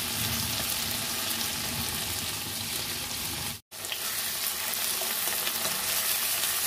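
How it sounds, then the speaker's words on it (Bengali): Potato, chopped garlic and green chilli frying in oil in a pan, a dense, even hiss and crackle close by that runs almost continuously, with one brief cut to silence partway through and no voices. "আলু, রসুন কুচি আর কাঁচা লঙ্কা কুচনোটা দিয়ে দিচ্ছি, দিয়ে একটু ভাজা ভাজা করে নেব"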